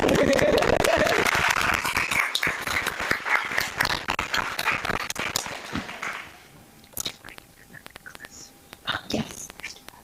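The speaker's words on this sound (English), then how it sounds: "everybody clap for Sue" An audience at an annual meeting claps for an honoree, a loud ragged round of applause that fades out after about six seconds, leaving scattered quiet sounds and brief talk.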